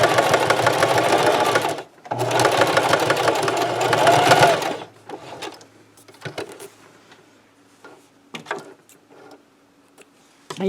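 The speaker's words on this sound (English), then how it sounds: "put my needle down, put my presser foot down, get that pin out there, back up, forward, back again" Sewing machine stitching across a selvage snap bag, running in two loud bursts with a short pause between, then stopping to leave quieter handling clicks and fabric rustle.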